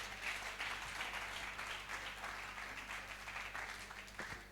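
A Christian seminar audience applauds in a hall: a dense, continuous wash of many hands clapping that holds steady throughout, at a moderate distance and without a voice on top.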